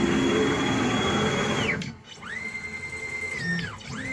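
An Onefinity Journeyman X50 CNC machine jogs its axes with whining stepper-motor tones that glide up and down in pitch as it changes speed and direction, close and steady, with faint talking in the room.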